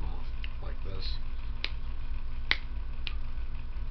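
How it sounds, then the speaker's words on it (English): Fingers snapping with a few sharp, separate snaps about a second apart, close, over a steady low background hum. "Or you snap your fingers"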